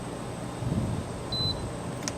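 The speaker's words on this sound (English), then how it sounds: "It beeped again." A GE dehumidifier gives a single short, thin electronic beep over a steady low machine hum and room noise.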